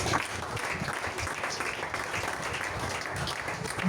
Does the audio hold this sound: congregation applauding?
yes